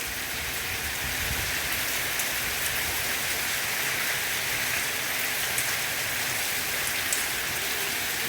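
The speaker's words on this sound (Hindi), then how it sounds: "और जी बहुत ज़बरदस्त बारिश हो रही है, हद से ज़्यादा हो रही है" Heavy, constant rain pours down in a dense, steady hiss that never lets up, loud and close, with a faint rumble of runoff underneath.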